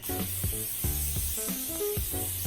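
Continuous hissing spray of cooking oil from an aerosol can, sprayed in a few short pulses close up, with no talking.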